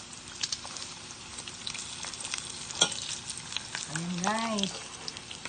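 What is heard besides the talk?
pork chicharon frying in oil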